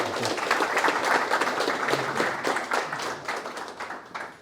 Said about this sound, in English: big round of applause for Councilman Smith